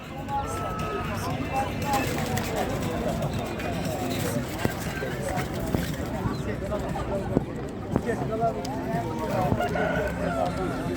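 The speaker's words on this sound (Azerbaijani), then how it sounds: "Gəncə Quş Bazarı." Roosters crow and chickens cluck amid a busy, noisy crowd at the Ganja bird market in Azerbaijan, with people talking throughout.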